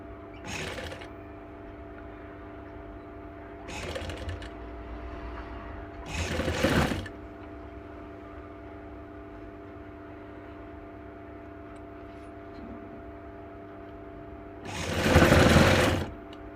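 An electric sewing machine stitches a blouse in four short bursts, the last one longer and louder, with a steady low hum between runs and no talk.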